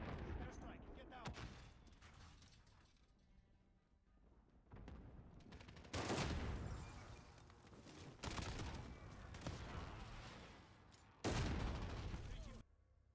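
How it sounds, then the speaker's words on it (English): Explosions and rapid gunfire from a Call of Duty airstrike erupt in several loud, broadband bursts, heavy booms breaking through a steady crackle of shots, with a voice speaking briefly among them. "Airstrike, get down."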